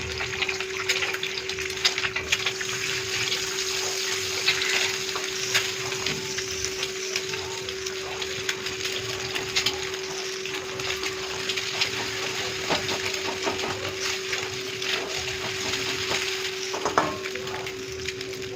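Eggs frying in a pan, a steady close crackling sizzle running throughout with a constant hum and occasional small clinks.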